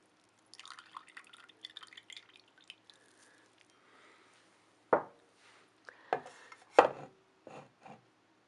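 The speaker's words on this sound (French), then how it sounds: "Donc je vais retirer ce liquide." Liquid drips and squishes as it is drained from salmon curing as gravlax under a stone weight, faint scattered drips and rubbing followed by a few louder wet splashes, close and otherwise quiet.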